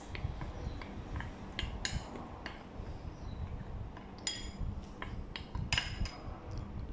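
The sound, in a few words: stirring corn flour, salt and white pepper in a bowl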